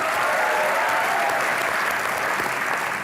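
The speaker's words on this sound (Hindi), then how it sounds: "मैं चाहूंगा कि उनका भी जोरदार तालियों से स्वागत कीजिए" Sustained, loud applause from a television comedy show's studio audience, a dense, steady wash of clapping with no pauses across the whole stretch.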